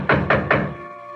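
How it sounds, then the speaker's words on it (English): Three hollow knocks on a wooden door in quick succession, close and fairly loud, followed by quiet room tone, from a radio mystery drama. "I heard this rapping at the door."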